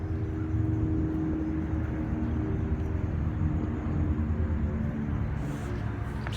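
A helicopter passes over the city, a low, steady, continuous rotor and engine drone that stays loud and rumbling throughout, with no talking over it.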